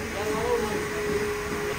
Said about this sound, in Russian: Где пылесос? Пылесос-то. Вот пылесос.